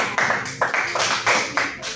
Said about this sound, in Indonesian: beri tepuk tangan untuk Ica.